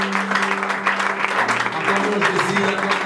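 A church congregation claps and cheers in praise, dense rhythmic applause with a sustained tone of voices and music underneath.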